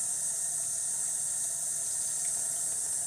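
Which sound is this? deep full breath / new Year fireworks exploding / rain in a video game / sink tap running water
sink tap running water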